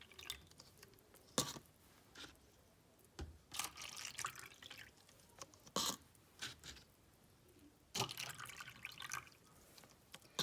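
Water poured into a cup in a small home lab setup, with intermittent splashing bursts and trickles between quiet gaps, faint and close.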